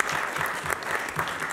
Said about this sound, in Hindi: भरपूर तालियां बजाएं